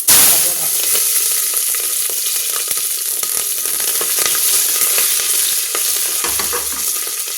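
Spices and six green chilies fry in hot oil, sizzling loudly and steadily up close, with scattered crackles and pops.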